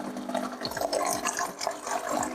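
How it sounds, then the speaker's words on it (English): Water being poured into a Kalita pour-over coffee filter, heard as a steady close trickle and splash with bubbling and liquid gurgling throughout. "Let's add the rest of the water."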